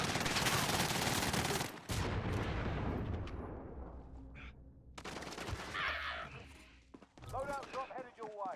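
Shotgun blasts in a first-person shooter game, loud booming reports with a dense opening burst, then scattered shots and bursts of game effects, with some voices under the action.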